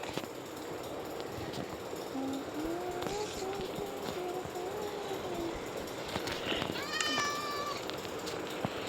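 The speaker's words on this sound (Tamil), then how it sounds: "ஒரு மியாவும் இருக்கு." Cat meowing in the Minecraft video game, a couple of short meows with a clearer one near the end, set against steady game background noise and occasional faint talk.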